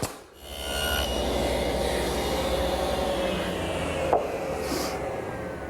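A router cuts two slots in a sheet of 1/4-inch plywood on a teak bar build, a steady close whine and rushing drone held throughout with a small knock near the end.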